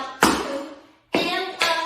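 Tap dancer's paradiddle stamp steps: three sharp, close shoe strikes on the floor, each ringing briefly before the next.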